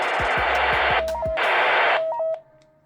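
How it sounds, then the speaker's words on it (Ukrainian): Bursts of loud squelch static hiss from a TYT MD-380 handheld radio cut in and out alongside short beeps and clicks as a button is pressed, the noise stopping abruptly near the end. "Шумодав при нажиманні, ну і кнопочка PTT."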